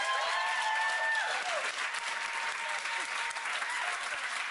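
Studio audience applause at a talk-show interview, steady dense clapping that holds for several seconds at moderate distance, with a brief voice and tone briefly audible at the start.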